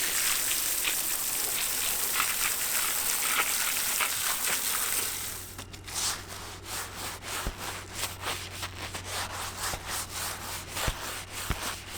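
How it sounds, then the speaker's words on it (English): Scrubbing the deck of a small sailboat at a marina dock after months of humid dry storage: steady broadband brushing at first, then quieter repeated rhythmic scrub strokes with occasional knocks, close and alone without talk. "finally give a proper scrub to the deck"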